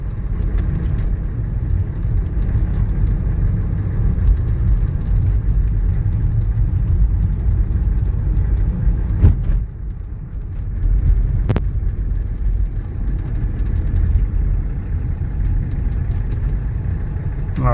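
A 1985 Mercedes 300TD diesel wagon cruises along with a steady close engine rumble and road drone that eases briefly midway, then resumes, with a couple of faint clicks and no talking.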